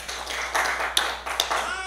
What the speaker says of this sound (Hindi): ताली बजा के प्रभु का धन्यवाद करेंगे।